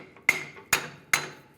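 Three sharp, ringing hammer blows strike a stuck leaf spring plate on a 2007-2013 Chevrolet Silverado 1500, evenly spaced and close, each metallic clang decaying quickly.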